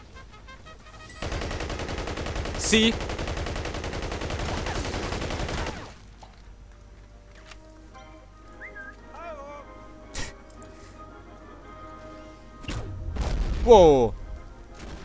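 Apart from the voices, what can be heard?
gunfire in the video game Battlefield Heroes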